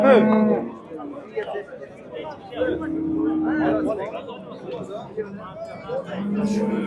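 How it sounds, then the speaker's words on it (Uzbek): At a busy livestock market, a Swedish-breed cow gives several low moos, a long drawn-out call among shorter ones, while people talk and chatter nearby. "Shved sigir."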